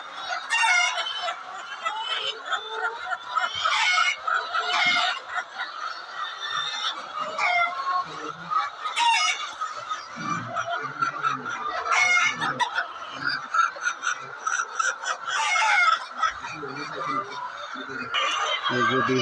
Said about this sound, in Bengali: আমাদের মুরগির খামার,